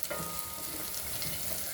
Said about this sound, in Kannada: ಒಗ್ಗರಣೆನ ಚೆನ್ನಾಗಿ ಫ್ರೈ ಮಾಡ್ಕೊಳ್ಳಿ